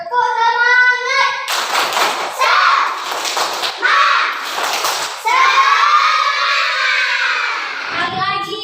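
A group of children and adults claps together in quick rhythmic bursts while children shout and a lively voice calls out between the rounds.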